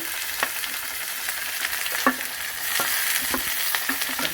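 Chopped onion and green chillies sautéing in a pan, giving a continuous frying hiss broken by scattered spatula taps and stirs, close and without voices.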